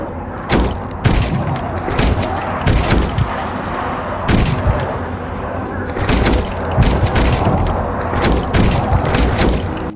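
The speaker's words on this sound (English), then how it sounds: "the shifting, shuffling thud of some unspeakable force trying to worm its way into your barricaded room" Heavy, repeated thuds pound against a barricaded door in a horror video game at irregular intervals, loud and close, over a dense rumbling background.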